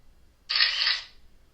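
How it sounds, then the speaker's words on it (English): A camera-style shutter click from an assistive scanning device, pressed by its top scan button: a single, crisp, close burst that lasts about half a second and then fades, in a quiet room. "You hear the shutter sound."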